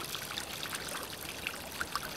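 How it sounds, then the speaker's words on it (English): Water from a barrel bog filter flows back into a garden pond, a steady soft trickle and splash with small bright drips on top, close by and alone. "it is returning water to the pond."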